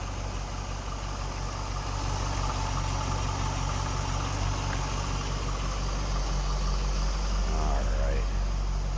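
A 2004 Chevrolet Corvette convertible engine idles steadily at close range, a smooth continuous hum with broadband background noise throughout.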